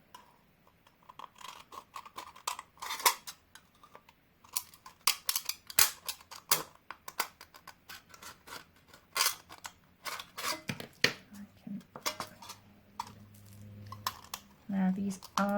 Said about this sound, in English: a U shape there, and I'm going to cut that one out.